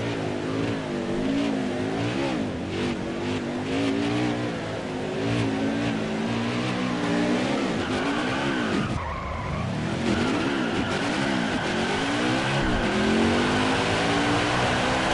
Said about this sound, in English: Some burnouts here.